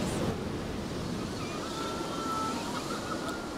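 Wind blows steadily by the sea in a low, continuous rush that mixes with the wash of surf, loud and close to the microphone, with no talk.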